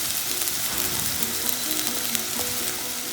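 Potatoes and soya chunks fry with spices in a pan for a soya chunk biryani, giving a steady, close sizzle and crackle that runs unbroken for the whole stretch, with faint scraping of stirring underneath.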